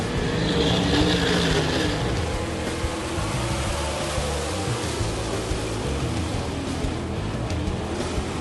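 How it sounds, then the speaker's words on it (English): Dirt track race cars running a heat race at Murray County Speedway in Slayton, Minnesota, a dense continuous roar of several engines revving and droning together, loud and sustained throughout. "Heat 3 at the Murray County Speedway in Slayton, Minnesota is on the track, and John Tesh starts on the pole."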